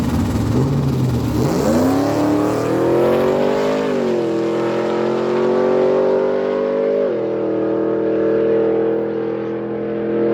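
A 2001 Pontiac Trans Am with a 408 cubic inch engine makes a drag strip pass, revving hard and climbing through gear shifts near 2 and 4 seconds, then a sustained loud roar that fades as it pulls away.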